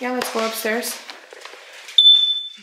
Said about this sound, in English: I mean the fire smoke detector